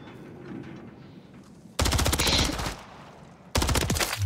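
Call of Duty MW3 gunfire, two loud bursts of rapid automatic shots separated by a quieter pause, with faint background game sounds before the first burst.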